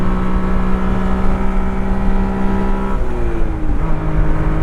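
A 1991 Honda Beat pulls away, its small engine droning steadily and loudly from inside the cabin with the windows up, then dipping in pitch at a gear change before climbing again.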